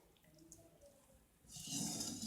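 Millet grains being rinsed in water in a home kitchen: faint quiet handling at first, then a louder swish and splash of water stirring through the grains near the end.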